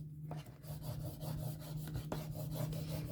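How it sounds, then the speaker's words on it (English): Clear sticker paper is burnished onto a card with rapid, soft, close rubbing strokes in a steady back-and-forth rhythm, quiet and continuous, with a faint hum underneath and no talk. "I always like to burnish these down so that they appear a bit less cloudy on the card as well"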